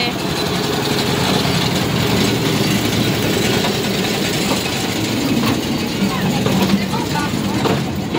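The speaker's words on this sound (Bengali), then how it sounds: "এই এসে গেছে ট্রেন, এসে গেছে," A toy train pulls in at a crowded amusement park, its steady rumble and rattle running continuously beneath close voices of people talking and the murmur of the crowd.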